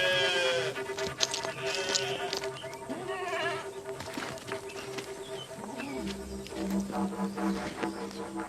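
A flock of sheep bleats in overlapping calls, near and far, some long wavering cries and others short, amid soft outdoor ambience with insects.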